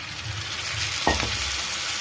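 Tomatoes frying in a clay pot of shrimp masala give a steady, fairly loud sizzle, with a brief scrape of stirring near the middle and no talking.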